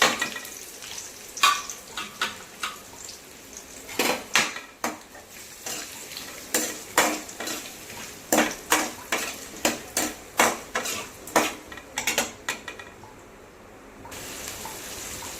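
Chopped onion sizzling in a kadai for a Kumbakonam kadappa side dish, with a steady frying hiss under a series of regular scraping and clinking stirring strokes, close and without talk.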